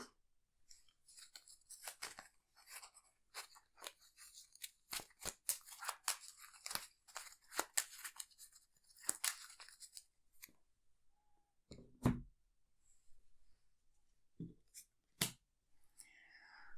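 Arkham Horror LCG game cards are shuffled in quick, faint papery riffles and snaps that come in bursts, then thin out, with soft low voices now and then.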